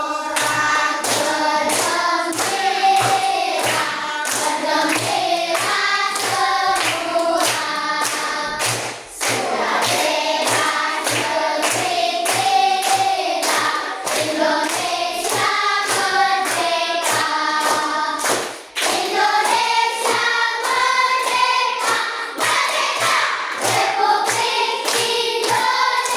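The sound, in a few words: children clapping hands while singing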